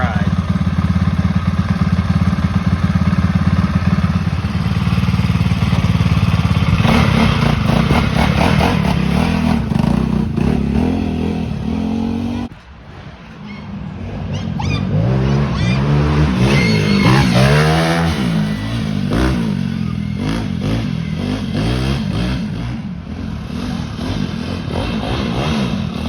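A Cannondale motorcycle engine warming up and then riding off, with a loud, continuous engine drone that revs and shifts pitch, dips briefly mid-way, then builds again as the bike moves.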